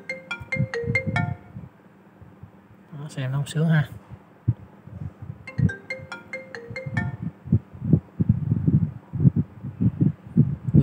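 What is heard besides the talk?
ringtone playing from an iPad 2 speaker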